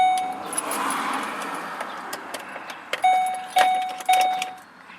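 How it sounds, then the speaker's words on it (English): Key jangling in the ignition of a 2008 Mercury Mountaineer Premier Edition that fails to start, with repeated short warning chimes and clicks but no engine cranking or firing. "So I'm going to try to start the car again."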